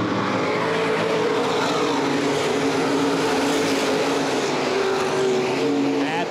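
Open wheel modified race cars roar down the back straightaway at a speedway, a dense, steady engine drone with overlapping engine tones from the pack, loud and continuous throughout.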